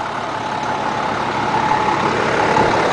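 A DT466 diesel truck engine idles steadily, a close, continuous low rumble with an even hum and no talk over it.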